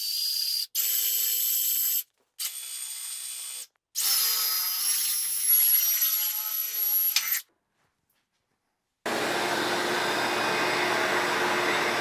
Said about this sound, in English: I'm gonna drill a hole with my 5/8 Forstner bit